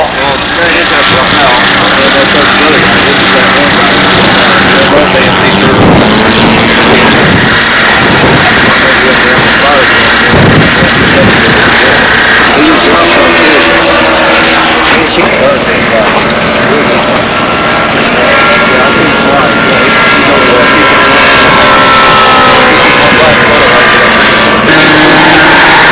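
Twin-turbine radio-controlled scale model aircraft engines whine steadily with a tonal jet roar at an outdoor national scale competition, loud and continuous, with a commentator's voice talking over it.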